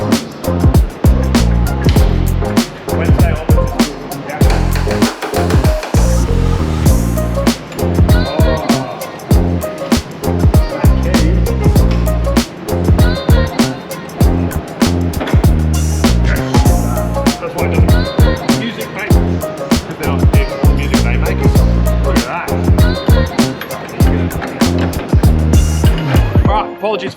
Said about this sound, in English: so I have a fan on.